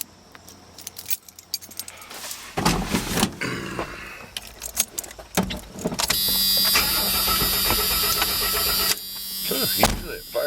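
A 1946 Ford engine cranks with uneven bursts and then catches, settling into a steady running hum with a whine on top, heard close, after keys jingle near the ignition and people speak briefly.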